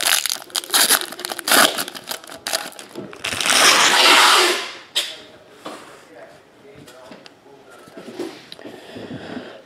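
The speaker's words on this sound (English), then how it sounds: "that tape is loud" Packing tape ripped off sealed boxes of 2017 Preferred, Illusions and 2016 Immaculate NFL trading cards, heard up close as loud crackling tears with a long, harsh rasp in the middle, followed by quieter crinkly handling.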